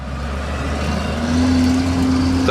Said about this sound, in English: Slowly into first low gear.